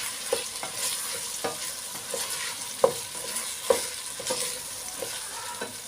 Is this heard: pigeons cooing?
no